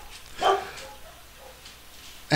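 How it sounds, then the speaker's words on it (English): Dogs bark downstairs indoors, one sharp bark burst early on and another at the very end, fairly distant, over quiet room tone. "And the dogs are barking again"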